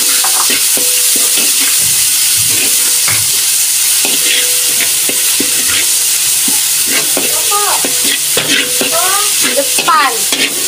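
Spices dropped into hot oil in a pan, a loud continuous sizzle and crackle with bursts of popping and stirring scrapes up close.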